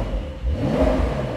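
A 2022 Porsche 911 Carrera 4 GTS with the switchable sports exhaust in sport mode gives a deep, throaty engine rev that swells and rumbles briefly, heard close up with no talk over it.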